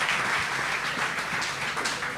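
A crowd at a cooking competition event applauds a pair of contestants, a dense, steady rush of clapping near and fairly loud for a couple of seconds.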